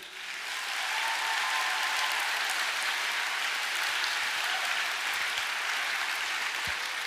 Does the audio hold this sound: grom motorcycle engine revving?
no